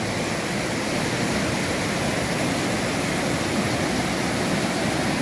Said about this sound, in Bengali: এই সিন্ধু নদীর পাড়ে চলে এসেছি একদম